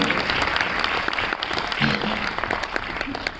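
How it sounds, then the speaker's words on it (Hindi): An audience at a Hindi poetry and song evening at a convention centre in Jaipur claps together in sustained, dense applause, close and loud throughout. "तालियां बजाकर बताइए"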